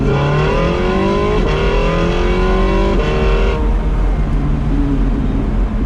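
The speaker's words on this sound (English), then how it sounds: "I think it's time to crank up that LMP2 motor." Porsche 918 Spyder's LMP2-derived engine revving hard and loud, with rising harmonic sweeps as it climbs through gears twice, then settling into a steady roar as the supercar drives on.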